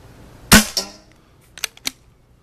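Vintage Nelson pump-action stock class paintball gun firing old, dried-out paintballs, one sharp close pop followed by a short echo, then two fainter clicks or impacts about a second later.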